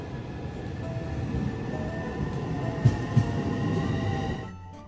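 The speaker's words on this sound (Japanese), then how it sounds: "3番線に入線をしてきた普通列車両毛線直通の前橋行きに乗車をしていきます" Local train on a Ryomo Line through service to Maebashi pulling into platform 3 at Honjo Station, a steady close rolling rumble with a couple of brief clunks near the end before it quiets.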